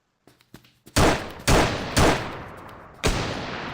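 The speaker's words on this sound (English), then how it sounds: "you can see that the enemy is shooting at us with the sniper" Sniper rifle shots from an enemy in a video game shooter: a few small clicks, then four heavy booming shots spaced about half a second to a second apart, each with a long fading tail, loud and without talk.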